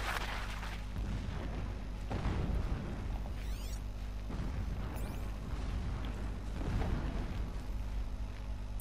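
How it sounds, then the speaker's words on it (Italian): Deep booming explosions in the video game Horizon Zero Dawn, several dull blasts rolling under constant low rumble and game ambience, with sharp transient bursts spaced a second or two apart. "Ci sono parecchie esplosioni quassù."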